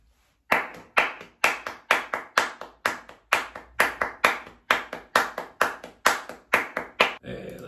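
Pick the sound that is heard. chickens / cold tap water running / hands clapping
hands clapping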